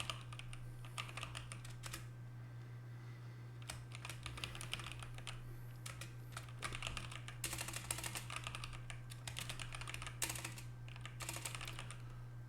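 Fingers type on a computer keyboard in bursts of quick, close key clicks with short pauses, over a steady low electrical hum, no talking.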